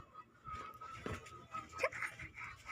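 A dog makes soft whimpering and panting noises nearby, with faint scuffling and household sounds around it.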